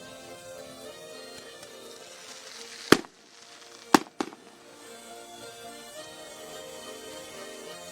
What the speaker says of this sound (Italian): L'esplosione di mortaretti e fuochi d'artificio che anticipano o ci dicono che la Santa sta per arrivare